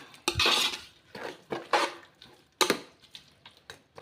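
A metal spoon scrapes and clanks against a pot in irregular bursts, close and fairly loud, as thick mutton biryani mixture is stirred.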